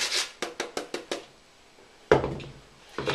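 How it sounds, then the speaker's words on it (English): An apple being coarsely grated on a box grater: a quick run of about seven short rasping strokes, a pause, then two more strokes, close by and moderately loud. "So with a box grater, just coarsely grate the apple into your bowl"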